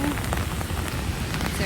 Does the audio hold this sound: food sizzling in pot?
no